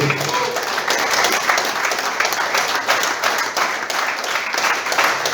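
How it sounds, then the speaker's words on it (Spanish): A church congregation claps loudly and continuously, a dense, even wash of many hands sustained throughout. "Aplaudan a Dios"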